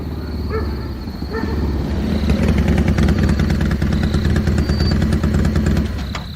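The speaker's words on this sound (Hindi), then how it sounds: "तभी बाइक की आवाज आती है।" An old-looking police motorcycle arrives outside a police station, its mid-pitched engine loud and close, revving and rumbling steadily before settling, with a dog barking briefly early on.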